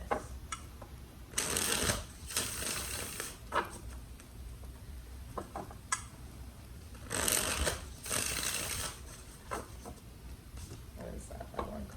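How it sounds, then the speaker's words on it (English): Tarot cards being shuffled by hand in repeated riffling bursts, each a crisp papery flutter lasting a second or two, with pauses and small taps between them, close up and fairly quiet. "let's do 3 more shuffles for Aquarius."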